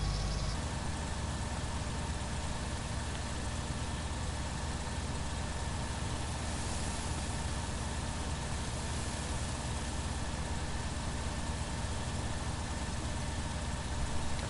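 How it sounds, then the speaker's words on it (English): A farm machine's engine runs steadily in Farming Simulator 19, a continuous low droning hum that holds at an even level from start to finish with no talking. "Put the engine on."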